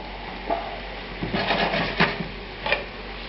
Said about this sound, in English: A little bit of oil. Now we're going to put the shiitake.